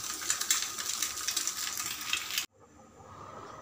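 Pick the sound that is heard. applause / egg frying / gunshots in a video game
egg frying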